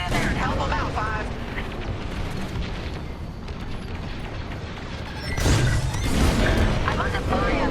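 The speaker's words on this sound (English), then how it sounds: "Our Corvette is taking heavy fire." Heavy blaster fire and explosions batter a Corvette in a Star Wars Squadrons space battle, a dense continuous roar of shots and booms that surges louder near the end, with voices talking over the action.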